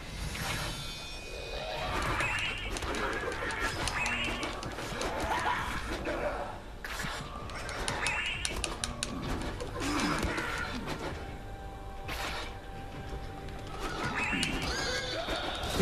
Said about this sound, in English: The most annoying thing in the game so far has been those birds